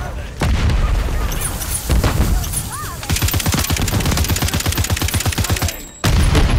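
Gunfire in the video game Call of Duty MWIII on the Farm 18 map: scattered single shots, then a long sustained rapid-fire burst of evenly spaced rounds, loud and close, followed by a final sharp shot.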